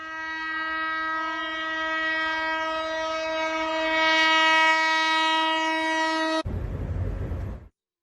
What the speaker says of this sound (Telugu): తొలుత జనవరి 1న వందే భారత్ స్లీపర్ రైళ్లను 130 కిలోమీటర్ల వేగంతో నడిపారు